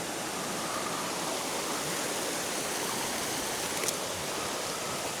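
Creek water runs down near a power station, a steady, dense rushing flow that fills the scene with constant broadband noise.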